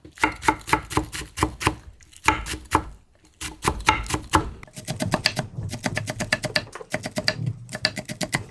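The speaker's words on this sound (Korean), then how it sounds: "4등분을 해서 총총총총 썰으면 다진 효과가 나요" A knife chops chili peppers rapidly on a cutting board in quick bursts of crisp, close taps, pausing briefly between runs.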